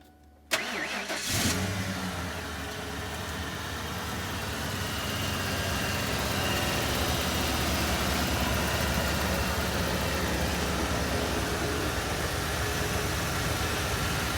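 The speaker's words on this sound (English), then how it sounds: "We'll fire the truck and kind of show you everything's working so you can hear that" A truck engine cranks briefly and catches after a short quiet moment, then settles into a steady, close, rumbling idle that continues evenly for over ten seconds with no talking.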